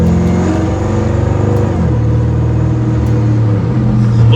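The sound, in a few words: supercharger whine of LT4 Chevy Corvette C1 restomod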